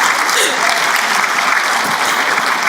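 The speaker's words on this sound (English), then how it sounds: "Give Jules a nice round of applause" An audience at the final plenary session of the Illinois Workforce Summit claps loudly and steadily, a sustained wash of applause filling the room.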